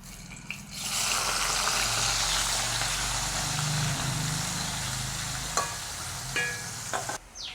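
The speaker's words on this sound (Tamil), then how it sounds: "பம்பா வெங்காயத்தையும் பொரிச்சு எடுத்துடுவோம்" Sliced onions fry in hot oil in a home kitchen, giving a continuous loud sizzle with a low bubbling undertone that holds steady for several seconds, then scattered clinks of a utensil near the end.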